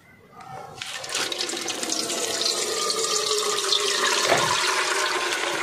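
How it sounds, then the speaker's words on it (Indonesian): Water pours steadily onto grated coconut in a bowl for coconut milk, part of making serabi pancakes. The close, continuous splashing gush starts after a moment and builds slightly louder to the end. "Kemudian selanjutnya kita kasih air. Air ini nanti kita peras dan kita ambil santannya."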